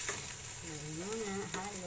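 Spaghetti is stirred in a hot pan over a steady sizzle with light scraping. A faint voice-like tone drifts in briefly partway through.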